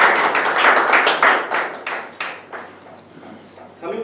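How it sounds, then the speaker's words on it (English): Applause and clapping from the audience at a Toastmasters club meeting, a dense, steady round of hands that fades gradually over a few seconds before a brief final swell. "Let us first give a round of applause to Toastmasters."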